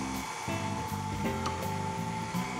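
An electric mixer on low speed beats gluten-free banana bread batter, a steady close whirring motor drone with a rhythmic pulsing wobble as the beaters turn, with no voices.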